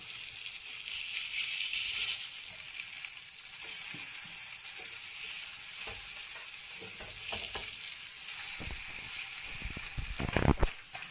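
An omelette fries in a pan on low heat, a steady soft sizzle throughout with occasional scrapes and clinks of a utensil as it is turned near the end.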